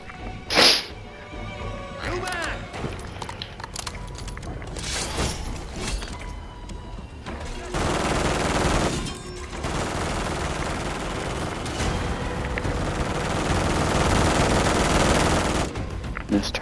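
An automated turret fires in Call of Duty MW3 Zombies, with a sharp opening shot followed by long stretches of continuous rapid fire that build toward the end.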